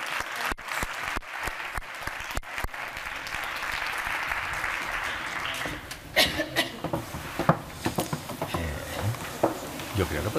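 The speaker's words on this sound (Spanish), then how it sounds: "Un fuertísimo aplauso. Un aplauso para todos ellos." A crowd applauds steadily at a conference panel, dense clapping filling the space, thinning into scattered claps and a few murmurs near the end.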